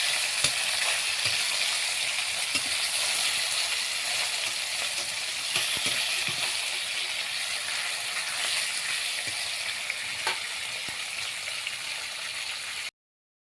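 Salted, turmeric-coated rohu fish frying in oil after being flipped, a steady dense sizzle with scattered small pops, close and unbroken, with no voices.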